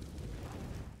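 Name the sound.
HE grenade exploding in Counter-Strike video game, Mirage map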